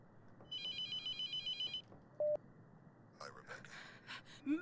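A telephone rings in the horror game The Mortuary Assistant, sounding as a quick series of pulsed electronic bursts. A short beep and brief vocal sounds follow, with a gasp-like breath near the end.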